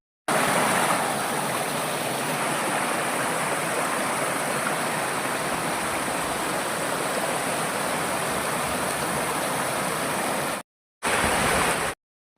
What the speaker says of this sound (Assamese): আৰু নদীখনৰ পানীৰ শব্দটো শুনিবলৈ ইমান ভাল লাগিছে, আপোনালোকে শুনকচোন।